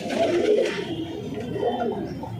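Pigeons cooing in a backyard loft, a steady murmur of overlapping low coos from several birds close by, continuous throughout.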